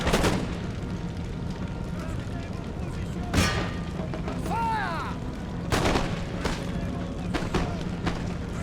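Gunfire from firelock-armed troops in the Empire: Total War strategy game, a few sharp shots cracking at intervals over a dense battlefield din, with talk running throughout.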